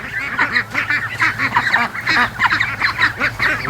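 A goose honks repeatedly and loudly among a flock of ducks at a lake, with constant overlapping honks and quacks close by.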